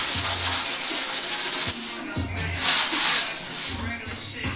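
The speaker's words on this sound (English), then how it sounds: "Started sanding here" Sandpaper rubs back and forth over a car body panel in quick uneven strokes, close and rasping, with a few faint low sounds between.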